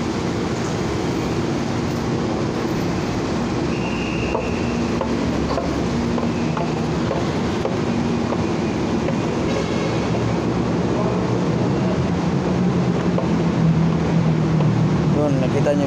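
A train rumbles steadily at North Avenue station in Manila, a continuous close roar of wheels and carriages under faint background chatter.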